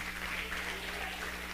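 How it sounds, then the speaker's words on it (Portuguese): Church congregation applauding the name of Jesus during a revival meeting, a brief dense burst of clapping over a steady low hum from the sound system. "Você também pode aplaudir forte o nome de Jesus."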